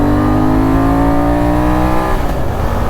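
A Benelli Leoncino 800 Trail motorcycle engine revs up with a smooth, steadily rising tone, loud and close, before the note shifts and eases near the end.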